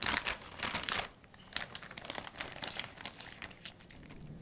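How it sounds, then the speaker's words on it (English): A gallon-sized zipper bag holding a pork belly rubbed with cure mixture crinkles and crackles as it is handled up close, in loud, irregular bursts of plastic rustling. "the air needs to be squeezed out of the bag"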